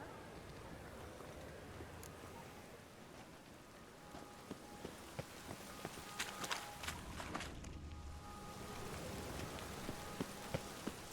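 Steady rain falls across an outdoor scene in The Witcher 3: Wild Hunt, a continuous wash of patter with scattered sharper drip and tap transients that grow more frequent toward the end, no voices present.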